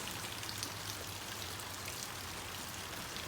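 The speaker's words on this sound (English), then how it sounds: "I really came out to just watch how the rain is" Steady rain falling outdoors in the Philippines, a dense even hiss of drops on surfaces that continues unbroken throughout, with no voices.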